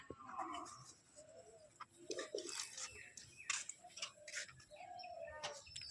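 Pigeons coo in a loft, low, soft, repeated calls mixed with wing flutters and scattered bird sounds nearby, fairly quiet overall.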